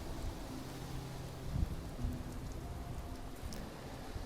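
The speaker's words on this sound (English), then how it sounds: "At least it's raining." Steady rain in the Fallout 76 game world, a constant broadband hiss of falling drops with a couple of soft low rumbles, even and moderately loud throughout with no voices.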